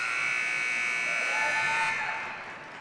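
A basketball game buzzer sounds during a girls' game, one loud sustained electronic tone that holds for about two seconds and then cuts off, leaving quieter crowd ambience.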